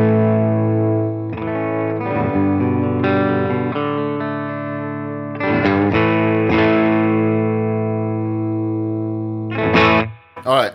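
An electric guitar played through a Harley Benton Tube 15 tube amp with a drive pedal rings out in sustained, distorted chords and held notes, loud and close, with a few sharp strums near the end.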